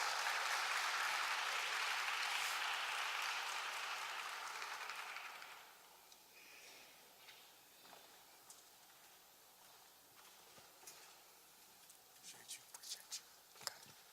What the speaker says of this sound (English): Give him a rousing round of applause.